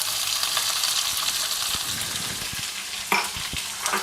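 Big onions fry in oil in a pan, a continuous close sizzle broken by several distinct spatula scrapes and knocks against the pan toward the end, with no voices.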